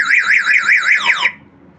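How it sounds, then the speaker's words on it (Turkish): A motorcycle alarm, just switched on, sounds a loud warbling electronic siren that rises and falls in quick cycles for about a second, then cuts off abruptly, leaving quiet. "Açtım alarm arkadaşlar."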